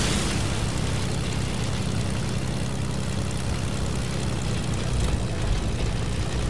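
A Fortnite airplane engine drones steadily and loudly throughout, a dense unbroken roar with a low throbbing undertone and no pauses.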